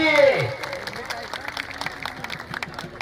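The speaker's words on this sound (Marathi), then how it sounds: "हात वरच्या पृथ्वी, टाळ्या कराव्या त्या पोरासाठी" Applause rises for wrestler Prithviraj Patil at a kushti wrestling event, a crowd clapping in a loose patter after a burst of noise at the start, with crowd chatter and an announcer's voice under it.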